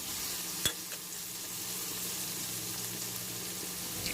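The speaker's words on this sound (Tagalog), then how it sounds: "Igigisa muna natin." Eggplant sautéing in a pan crackles with a soft, steady sizzle, with one sharp clink of a utensil early on and faint stirring sounds, no voices.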